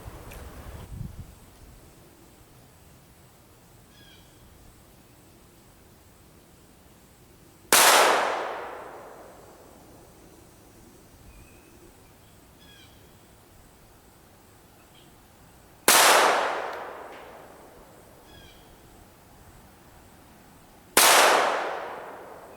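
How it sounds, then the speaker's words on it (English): A SIG Mosquito pistol fires three separate shots at a target from 40 feet, each a sharp loud crack with a ringing decay, spaced several seconds apart. "Now I'll go back to 40 feet again and shoot right here."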